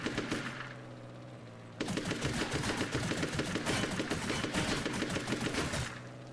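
Gunfire in a video game strikes the rear of the player's tank, with a sharp opening shot, a short pause, then a sustained rapid machine-gun rattle that runs loud and even for several seconds before cutting off.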